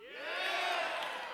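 A packed theater crowd at the AMD E3 2019 event cheers and whoops in a swelling roar that holds loud for about a second.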